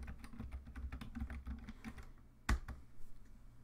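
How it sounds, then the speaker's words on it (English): Quick bursts of clicking keys on a computer keyboard, close and quiet, pausing before one louder final tap. "So if you just type in"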